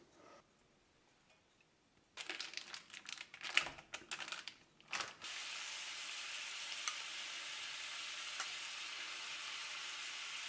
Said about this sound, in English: we're going to want to toss in about a tablespoon of garlic with a pound of ground beef